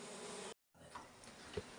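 Honey bees buzzing at a wooden bee house in a Uttarakhand hill village, a steady close hum that cuts out briefly and then resumes with fluctuating intensity.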